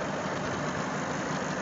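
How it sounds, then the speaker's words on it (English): A car's engine idles steadily at close range, a continuous low rumble with an even, unchanging hum and no voices over it. "had the engine running since we've been doing this video"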